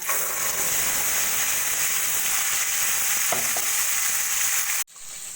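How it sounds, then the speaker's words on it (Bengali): Spice paste frying in hot oil with bay leaves, a dense, loud, steady hiss and crackle close by that holds constant, then cuts off abruptly just before the end, leaving only a quieter background. "কড়াইতে তেল গরম করে দিয়ে দেবো দুটো তেজপাতা গ্যাসের ফ্লেমটাকে একটু লো করে নিয়ে এবার দিয়ে দেবো আমি পেস্ট করে নেওয়া মশলা"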